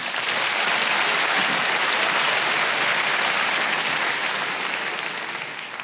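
Sustained, loud applause from a live podcast audience of people aged 30 and over fills a hall, dense and steady throughout before tapering slightly at the end.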